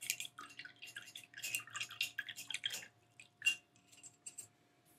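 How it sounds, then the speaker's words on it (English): A paintbrush is rinsed in a cup of water after painting a snowman ornament, giving a run of close, light splashes, drips and glassy clinks that come in quick irregular bursts with short pauses. "Let's wash our brush."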